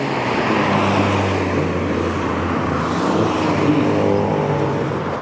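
A supercharged Ford Anglia with a little pre-crossflow engine revving hard and holding a loud, steady, raspy roar up close for several seconds, with a high whine creeping in near the end.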